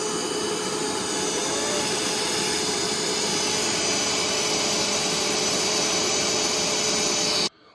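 Small battery-powered car detailing vacuum runs at a steady, loud, high-pitched whine for about seven seconds, then cuts off abruptly at the end, with no talking.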